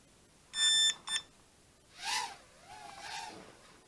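Drone controller for a DH800 Joso mini drone beeping as its timer is pressed: two short bursts of close, high electronic tones, followed by a brief tonal chirp and a softer warbling tone.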